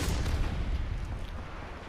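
Missiles exploding against a wall in the Apex Legends video game, a burst of heavy low booms and blasts that fade out over about two seconds.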